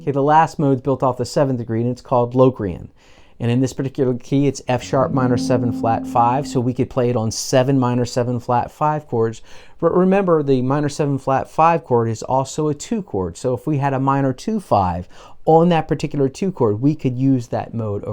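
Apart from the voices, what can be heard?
No distinct noise like a dog, phone or traffic.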